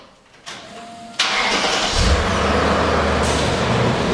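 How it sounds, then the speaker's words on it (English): A BMW E39 M5 engine with stock exhaust cranks and catches, then settles into a deep, steady idle rumble, close and loud. "we're ready for the initial startup. See how a stock exhaust sounds"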